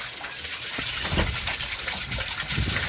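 Soapy water backed up from a clogged sink gushes out of an opened drain clean-out, a loud steady splashing rush close by with no speech.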